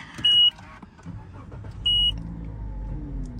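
A Toyota Yaris starting: two electronic dashboard chimes, then the engine cranks and catches into a low, steady idle, heard from inside the car with no talking.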